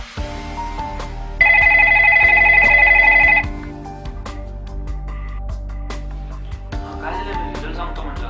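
A mobile phone rings in an indoor scene of a Marathi short film: a bright, steady electronic ringtone of about two seconds, loud and near, over low room hum, then it stops.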